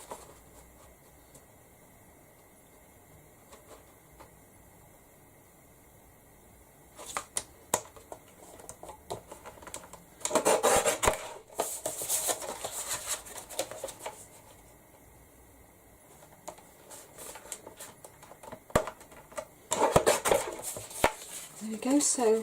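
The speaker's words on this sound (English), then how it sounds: "I'm just using my guillotine" Paper guillotine slicing through card during card making, a few sharp scraping cuts and clacks in short bursts against a quiet room.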